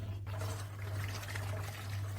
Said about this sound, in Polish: przelewamy wodę do pojemnika fermentacyjnego